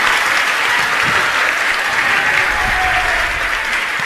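An audience at a Jain religious discourse in Banswara claps hard in dense, continuous applause, loud and close, with a brief faint murmur underneath.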